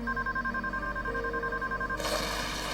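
A telephone rings repeatedly and goes unanswered, a faint electronic bell pattern repeating at a steady rhythm, with a brief broadband noise burst near the end.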